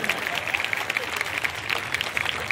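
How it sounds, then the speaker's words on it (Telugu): A crowd at a temple Koti Deepotsavam festival claps in a continuous patter of many hands, moderately near and steady in level, with a faint murmur of voices mixed in. "చప్పట్లు గట్టిగా కొట్టండి."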